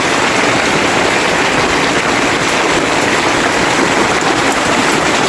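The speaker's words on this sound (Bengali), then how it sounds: "বৃষ্টি হচ্ছে ভগবানের একটা সুন্দর একটা নিয়ামত" Rain falls in a dense, unbroken roar, loud and close, with no voices.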